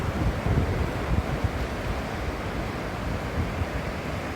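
Ocean surf rolls onto the beach at Cox's Bazar near Teknaf, a steady, loud, wind-blown roar of breaking waves that continues without a break, with no voices over it.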